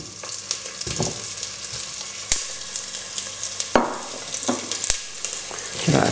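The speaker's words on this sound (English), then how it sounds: "So let's just put the chorizo in there." Chorizo frying in oil in a hot pan, a steady crackling sizzle broken by sharp pops and spatters, with occasional stirring scrapes, close and loud with no talking.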